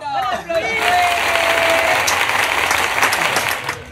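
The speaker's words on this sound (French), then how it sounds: "Applaudissez." A crowd of guests applauds at a bachelorette party in Cameroon, dense clapping and cheering filling the space steadily, with voices mixed through it and a whistling cry near the start.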